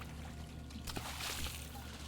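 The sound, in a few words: water flowing from pipes in video game Hydroneer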